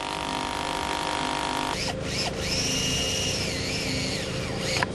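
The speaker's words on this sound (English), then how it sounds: "Position the wall plate on the wall and drill the first hole" A power drill bores a hole into a wall to mount a wall plate, deep enough for a 70 mm screw. It makes a loud, continuous close whine that shifts pitch as the bit bites in.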